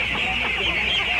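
Ducks on a lakeside farm in China call in a brief, busy burst of overlapping clucking and quacking, fairly loud and near.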